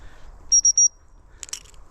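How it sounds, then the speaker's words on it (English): A dog whistle sounds three short, sharp, high pips in quick succession as a recall signal, clear and close in a quiet outdoor setting, followed by a faint brief rustle. "It's 3 short, sharp pips"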